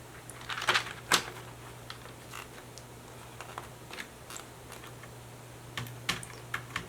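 Keys are pressed on an ASUS Cerberus MK I keyboard that has a broken Caps Lock key, giving scattered sharp clicks and clacks with irregular timing over a low steady hum.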